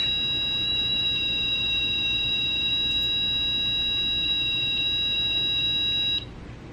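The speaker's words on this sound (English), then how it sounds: "REM pod's going off." A REM pod ghost-hunting device sounds a steady, loud electronic alarm tone with stacked high pitches, holding continuously for about six seconds before cutting off abruptly, with no voices.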